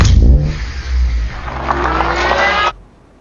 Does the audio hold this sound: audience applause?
no